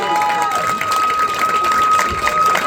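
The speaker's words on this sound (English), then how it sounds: "So give yourselves a round of applause." Crowd at a nighttime LGBTQ+ community variety show cheering and applauding loudly and continuously, a dense wash of clapping with whoops over it.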